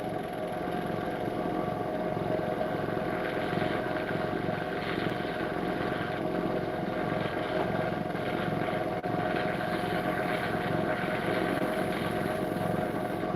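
A lathe turning at about 700 RPM during waxing gives a steady, even mechanical drone with a faint tonal hum, unbroken and close throughout.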